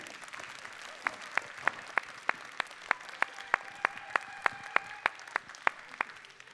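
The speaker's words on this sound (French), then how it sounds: "Je vous demande de l'applaudir à l'expérimenté Mario Mitter" Scattered, sparse applause from a padel tournament audience as a player is introduced, with a steady run of distinct individual claps spaced roughly evenly across the stretch, fairly quiet and distant.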